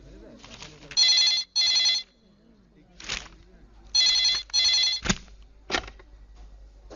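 An old-fashioned telephone bell rings in bursts, two rings then a pause, repeating twice, loud and close in an office scene, with brief voices and knocks between the rings.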